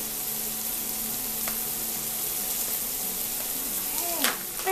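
Grass-fed organic pork slices fry in a pan with a steady, even sizzle and hiss, close up, while a person talks over the cooking.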